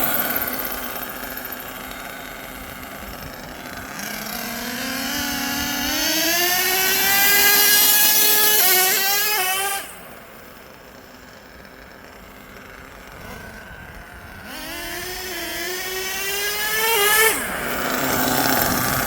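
An HPI Savage XL RC truck fitted with two LRP .32 nitro engines screams through rising and falling revs, loud and close, with a sharp drop to a lower drone around the middle before climbing again.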